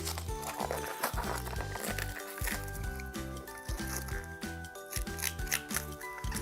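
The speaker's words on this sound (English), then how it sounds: "I would recommend using a knife just to cut slightly" A knife slicing a plastic bag off the armrests of a Steelcase Gesture office chair during unboxing, with quiet repeated rustling and cutting sounds close by over a low rhythmic background.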